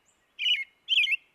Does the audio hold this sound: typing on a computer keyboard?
no